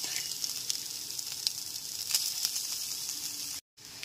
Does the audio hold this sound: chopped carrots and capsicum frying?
yes